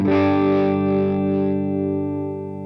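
A single electric guitar chord rings out clean through a Bogner Ecstasy Mini 30-watt amplifier head and sustains, slowly fading, with no talking.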